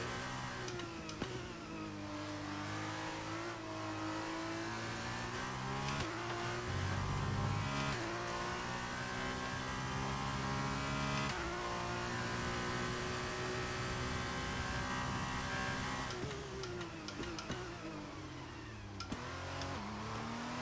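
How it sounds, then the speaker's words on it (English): Race car engine in the F1 23 video game revving hard while drifting, a loud sustained whine that climbs and drops through gear changes, with tire squeal mixed in, continuous for about twenty seconds. "I'm just dipping into second gear to kind of get the car drifted a bit"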